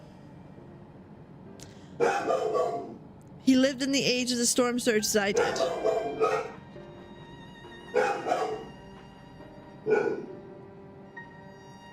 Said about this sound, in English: I'm sorry, do you hear the dog?